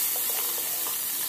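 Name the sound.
bay leaf and cinnamon sizzling in oil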